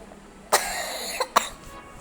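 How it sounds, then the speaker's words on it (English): A brief throat clear is followed by two short, sharp coughs spaced a beat apart, close and fairly quiet against a faint background hiss. "These are just a cough, okay?"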